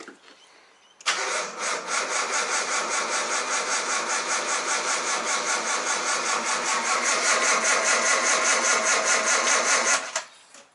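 A Nissan RB25DET engine fires up and runs with a bit of throttle during a track-day build, giving a loud, steady, rough mechanical drone that holds for about nine seconds before cutting off abruptly, close up with no talk.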